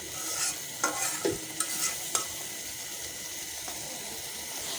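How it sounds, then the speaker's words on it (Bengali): Spice paste with chili powder, dried chili and green chili sizzles in a pan for a taro dish. A constant frying hiss runs under several sharp scrapes and clinks as a spoon stirs it. "সম্পূর্ণ মশলাটা কষে আসছে"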